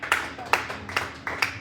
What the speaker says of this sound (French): Il y a moins de monde qui applaudit